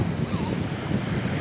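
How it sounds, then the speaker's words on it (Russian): Sea waves wash and break against the shore with a brief, close rush of surf mixed with gusty wind buffeting the microphone. "Ну давайте сейчас покажу, как на меня волна"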